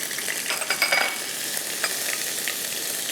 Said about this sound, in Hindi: अब यहाँ पे हमने ले लिया तेल, कड़ी पत्ता, ये गया इसके अंदर लहसुन अदरक का पेस्ट,